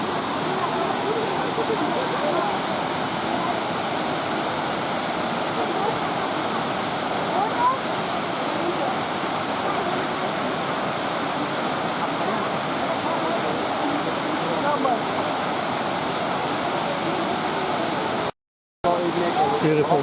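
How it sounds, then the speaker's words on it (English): A steep waterfall on a limestone hill with turquoise water pours in a steady, dense roar, close and loud throughout, broken only by one short gap near the end. "Waterfall goes right up to the top of that hill there."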